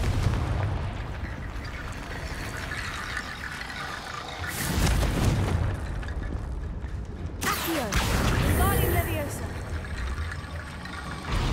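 Confringo fire spell blasts in Hogwarts Legacy, two loud broadband bursts about three seconds apart, over constant game background noise and rumble.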